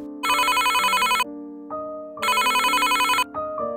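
A telephone rings in two bursts of bright electronic trilling, each about a second long, loud and close, with a softer lower tone following each ring and no talk.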